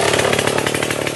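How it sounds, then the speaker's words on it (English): Chainsaw revving steadily as it cuts through tree branches during orchard pruning, a loud, continuous close-up buzz with a slight rhythmic pulsing and no voices. "The chainsaw operator removes the selected branches."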